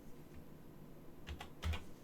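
Keys clack on a computer keyboard in a few quick, close bursts against a quiet room hum.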